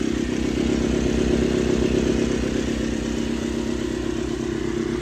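A Honda RC213V-S motorcycle running on VP race fuel idles steadily and close by, a continuous even engine drone with a fast mechanical clatter and no voices.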